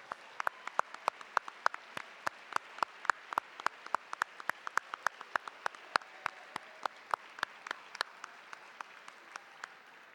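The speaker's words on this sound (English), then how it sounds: "then we'll recognize them with applause" Sparse, distinct individual claps ring out in a large convocation hall as an audience recognizes 15-year employee honorees, sharp and spaced irregularly over a quiet background.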